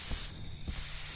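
Loud hissing spray bursts from an aerosol can in a bathroom in the Friday the 13th video game, an unbroken broadband hiss that thins briefly in the middle before surging again, with no talking.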